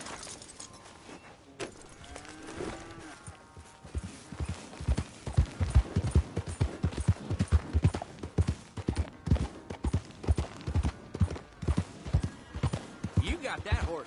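Horse hooves clip-clop in Red Dead Redemption 2, beginning softly and growing into a steady, fairly close trotting rhythm with some jangling tack. A voice speaks briefly during it.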